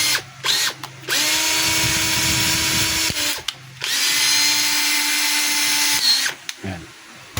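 A DeWalt DCD780 cordless hammer drill whirs in two sustained bursts of a few seconds each, loud and close, with short clicks and handling noises between runs and no talking.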